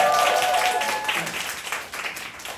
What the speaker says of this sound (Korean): 제희 군에게도 많은 박수 부탁드립니다